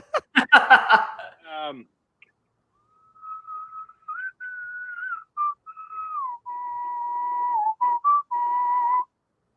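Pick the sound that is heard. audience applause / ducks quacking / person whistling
person whistling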